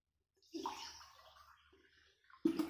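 A cup and a half of water pours into a pot of sugar to make jalebi syrup, a soft splashing gush near at hand that trails off, with a louder splash at the end.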